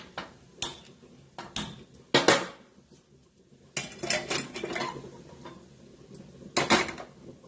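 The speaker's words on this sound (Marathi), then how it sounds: "आता मी हे दुसऱ्या गॅसवर ठेवते इकडं" A metal pot set down onto a gas stove burner, several sharp clanks and rattles of metal on the grate in bursts, close by, with no voices.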